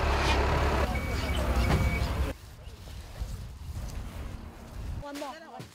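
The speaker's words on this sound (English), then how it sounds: "Next, 5 container trucks carrying aid supplies and rice from Taiwan arrive at the distribution venue" Five container trucks loaded with rice and aid supplies from Taiwan pull into a distribution venue, heavy engines rumbling loudly before dropping to a lower idle, with faint beeping near the end and voices in the background.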